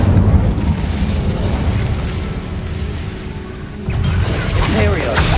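Incendio fire spell in the Hogwarts Legacy video game: a loud, continuous roaring whoosh of flame with crackling texture, swelling again near the end after a brief dip.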